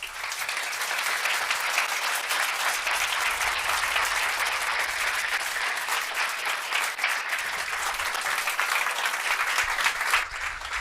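Sustained, loud audience applause after a keynote lecture, a dense continuous wash of clapping from a large crowd for about eleven seconds without pause.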